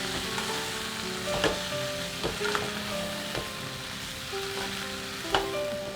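Cauliflower florets and green peas being stirred in a hot pan, a steady crackling sizzle with a few soft scraping knocks of the spoon, close and without speech.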